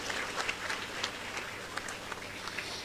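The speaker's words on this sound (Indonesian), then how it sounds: "Tepuk tangan buat kita semua." An audience claps at a talk, a steady moderate wave of applause with scattered sharper claps standing out, fairly distant and without speech over it.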